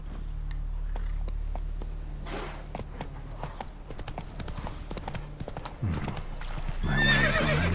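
Roach the horse trots in The Witcher 3, hooves clip-clopping in a steady, close rhythm, then a loud neigh rings out near the end over a low background hum.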